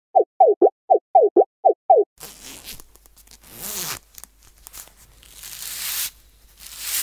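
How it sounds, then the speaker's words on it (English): A jacket zipper is pulled open in a quick series of seven short rasping bursts. Crumpling fabric, rustling and a low rumble follow, with swelling noise toward the end. The opening is near and crisp. "What you are hearing is the waiter opening his jacket and showing"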